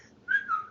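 A person whistles a single short note that bends up and then settles slightly lower, clear and fairly close, with nothing else around it.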